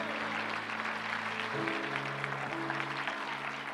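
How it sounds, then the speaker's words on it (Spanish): A church congregation claps together in a sustained, fairly loud wash of applause, with held musical tones sounding underneath throughout. "Denle un fuerte aplauso al Señor."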